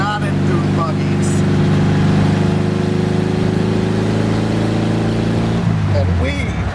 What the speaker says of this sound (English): we are going for a spin, and you get the feeling right away that the world is made up of people who are either in dune buggies or not in dune buggies